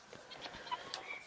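Large meat chickens on a small family farm cluck and call in a quiet, close cluster of short, soft bursts, with no talk over them.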